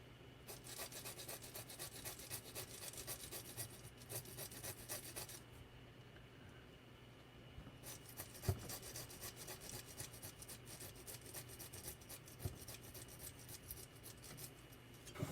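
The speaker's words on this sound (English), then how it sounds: "Again, going to be using my Harbor Freight hacksaw." A cheap Harbor Freight hand hacksaw cuts with steady back-and-forth rasping strokes, up close and continuous, with a brief pause in the middle and occasional sharp knocks, and no talk.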